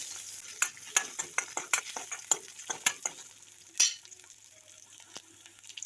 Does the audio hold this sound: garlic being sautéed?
yes